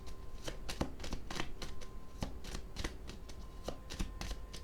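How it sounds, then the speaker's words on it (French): Oracle cards are shuffled and laid down up close, making quick papery riffles and soft slaps in an irregular rhythm, with no talking. "J'ai envie de poser une carte sur la femme."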